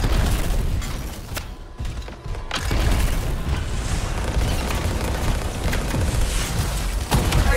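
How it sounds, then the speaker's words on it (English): A very large gun firing in the Anthem video game gives a dense, continuous roar of booming blasts and rumble. It is loud and close and fills nearly the whole stretch, with a brief dip partway through. "Time to show them that really large gun."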